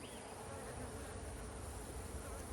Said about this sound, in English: The bees look pretty good inside